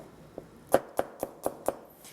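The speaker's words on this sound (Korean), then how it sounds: "이제 마늘 손질을 할 거예요. 칼로 이렇게 옆으로 이렇게 이렇게 편으로 이렇게 썰어도 되고" Knife slicing peeled garlic cloves into thin chips on a cutting board, six crisp, evenly spaced taps close up with nobody talking.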